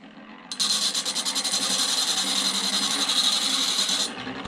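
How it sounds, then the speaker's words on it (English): A hand grinder grinding the blade of a Stanley 78 scrub plane starts abruptly with a loud, steady high whirring grind and a pulsing texture, then cuts off near the end. "I'm going to mark out the curvature, and then I'm going to use this hand grinder"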